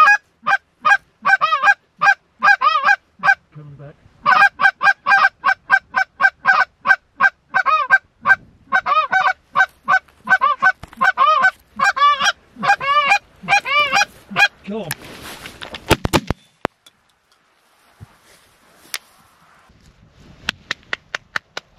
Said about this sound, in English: These are honkers.